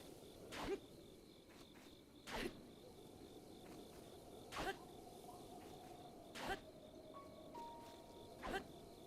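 Crickets chirp in the Breath of the Wild video game, a soft steady insect trill under quiet ambient game sound, with faint periodic louder thumps recurring about every two seconds.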